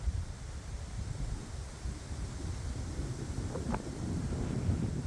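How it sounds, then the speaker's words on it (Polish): Strong wind blowing through an autumn forest, a continuous rumbling roar with low gusts that swell slightly toward the end. "I się naprawdę mocny wiatr był. Jest. Zobaczcie jak to wieje."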